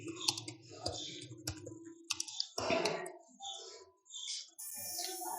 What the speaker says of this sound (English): So first we will go to Google and type Visual Studio Code.